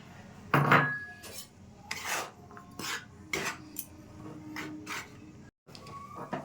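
Rice flour stirred into hot salted water in a pot for dudh puli pitha: intermittent scraping and clinking of a utensil against the pot in short irregular bursts, close and moderately loud, with no voices.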